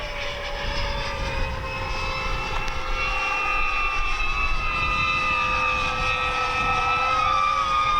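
A Gripen aircraft comes in to land in a gusty crosswind, its engine holding a steady, sustained whine with slowly shifting tones, loud and continuous with no talking.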